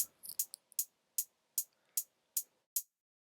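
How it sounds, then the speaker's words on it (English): A simple closed hi-hat pattern for a beat: about nine short, crisp ticks in an even rhythm, played alone and quiet. "And then one more thing that I did with these drums was I added some closed hats."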